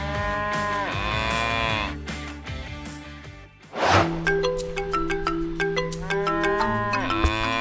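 Dairy cattle on a farm moo loudly and repeatedly, long drawn-out calls overlapping one another close by, with a brief pause in the middle before more cows join in.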